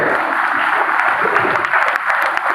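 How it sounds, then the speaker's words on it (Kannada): An audience at a Rotary anniversary event gives a dense, steady round of applause, loud and continuous throughout. "ಒಂದು ಜೋರಾಗಿ ಚಪ್ಪಾಳೆ ಬರಲಿ ನಮ್ಮ ಪೀಸ್ ಕಾನ್ಫರೆನ್ಸ್ಗೆ."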